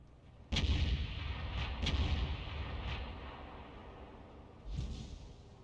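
Heavy artillery gun of the Object 261 self-propelled gun firing in a tank video game: a loud, booming blast with a long rumbling tail, then a second distant-sounding boom, no voices over it.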